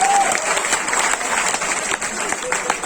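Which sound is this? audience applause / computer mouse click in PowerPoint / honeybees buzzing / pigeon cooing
audience applause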